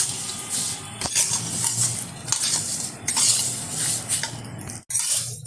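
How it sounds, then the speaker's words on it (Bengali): Sweet vermicelli with raisins, cashews and pistachios is stirred in a pan, with constant metal scraping and clinking of a spoon against the pan over a light sizzle, close and busy throughout. "এটা একটু নেড়ে নিচ্ছি"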